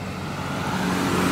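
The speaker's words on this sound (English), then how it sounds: "There's heavy traffic now on this highway." Road traffic rumbles steadily along a busy highway in Guyana, a continuous low engine drone that swells slightly as vehicles approach, with no voices.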